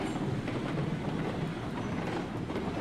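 A train running on tracks in Railroads Online, a steady close rumble with a dense rolling rattle that holds at an even level throughout.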